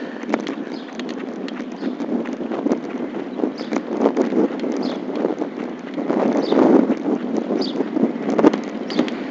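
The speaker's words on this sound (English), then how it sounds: "Very strong headwind here." Strong headwind buffets the microphone of a recumbent bike riding through Queens, New York City, a steady, loud rumbling roar that continues throughout without letting up.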